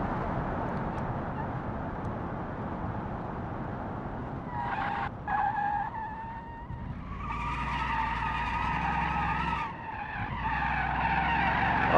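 In BeamNG, an open-differential car understeers and then spins out. Steady engine and road noise runs under loud, whining tire squeals that rise and stutter through the second half.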